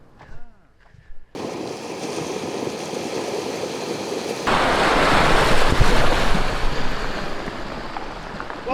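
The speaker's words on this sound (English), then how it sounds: "Apparently we got a flood coming down the river." A flash flood surges down a river in Namibia as a loud, continuous roar of rushing water mixed with wind buffeting the microphone, growing stronger partway through after a brief quieter start.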